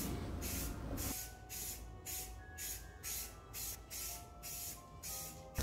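Aerosol can spraying primer or spray adhesive onto a miniature model's lake bed: a series of short, close hissing bursts in an uneven rhythm, with no talking.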